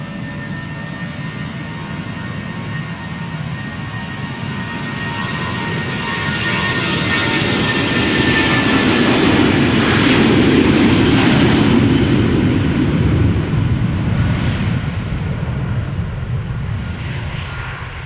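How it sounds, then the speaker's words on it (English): An Airbus A320 jet bound for Bilbao roars past at Schiphol Airport, the engine noise swelling to a loud peak midway and then easing off slightly. "Going to Bilbao, this one. Flight 8355. A320."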